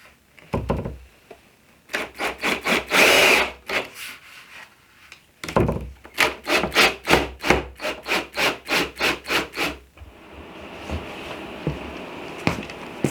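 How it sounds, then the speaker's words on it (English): Table saw cutting through an aluminum and wood picture frame jig, heard as two runs of rapid, rhythmic rasping pulses separated by a brief pause, close and loud, followed by a softer hiss as the blade winds down. "I'm just going to cut it on the table saw to that line and cut right through the aluminum and everything"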